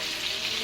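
Soy sauce and infused oil sizzling in a hot pan, a steady, soft hiss of frying with no talking, heard briefly up close.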